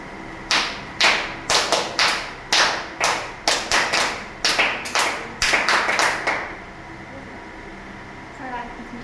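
Children in a classroom clap in a series of sharp, loud bursts, irregular at first and then quicker, running for about six seconds before stopping, with faint voices after.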